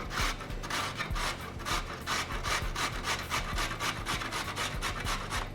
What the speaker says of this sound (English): I have some grated carrot, but I like to cut the carrot on an angle. It's easier to grate.